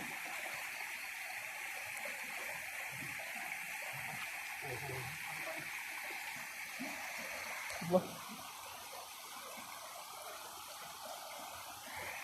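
Water streams and trickles down from a lifted fishing net in a steady, moderately loud pour, with a brief knock near the end and faint talk underneath.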